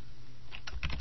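Typing a VLOOKUP formula into a spreadsheet on a computer keyboard: a quiet lull, then a quick close burst of several key clicks toward the end.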